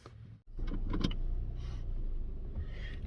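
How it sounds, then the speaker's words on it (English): A car getting underway, with a steady low engine and road rumble that holds from about half a second onward, after a brief dropout at the start. Faint clicks and knocks from the cabin sit over the drone. "I'm gonna start driving"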